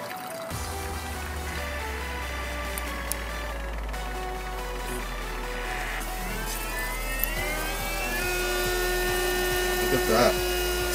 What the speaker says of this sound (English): now that activates the water pump, and you can hear it run